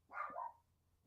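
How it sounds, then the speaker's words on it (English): Dogs bark indoors behind someone at a desk, giving a single loud, close woof-like burst that fades quickly into quiet room tone. "All I can hear right now is woof woof."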